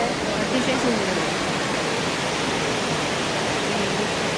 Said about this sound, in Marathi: आणि धबधबा पण पाहावा तिथे. किती सुंदर आहे, अतिशय सुंदर आहे.